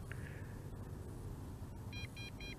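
Warning beep from a JJRC JJPRO X5 quadcopter controller, a short high tone early on and then a run of three quick beeps near the end, faint over steady outdoor background.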